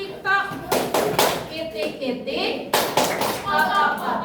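A class of children claps the "Tepuk TikTok" clap rhythm, several sharp bursts of group clapping interspersed with taps and children's voices chanting along, close and lively.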